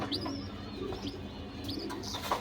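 Pigeons coo in a loft with newly hatched chicks among them, soft repeated cooing mixed with a few higher chirps and tweets over a steady low background hum.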